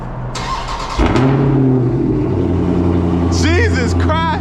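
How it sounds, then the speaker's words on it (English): A widebody Dodge Charger Scat Pack with its mid muffler deleted fires up from cold: starter whir, then a loud, steady near V8 rumble, with excited shouting over it near the end. "First cold start with the mid muffler delete."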